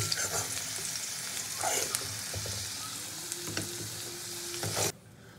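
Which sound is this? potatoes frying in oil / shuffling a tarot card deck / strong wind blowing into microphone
potatoes frying in oil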